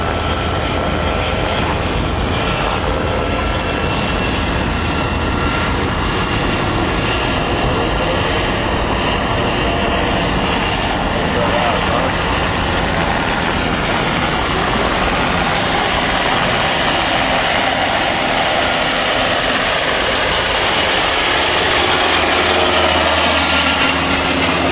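A loud, continuous rotor and engine roar from a Black Hawk helicopter holds steady throughout, close and dense, with no pauses.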